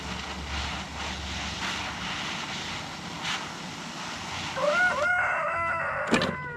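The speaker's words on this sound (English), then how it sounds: "Hello, rooster." A rooster crows loudly near the end over a background of steady outdoor noise and a faint airplane drone, with a single clear crow following a quieter stretch.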